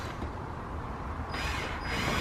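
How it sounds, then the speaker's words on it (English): Mechanical ratcheting and whirring as a screw is driven into a polyurethane front lip on a Nissan 350Z, a steady close-up grinding churn that swells slightly toward the end, with no talking. "Okay, so now I'm just going to add a screw either side at the bottom"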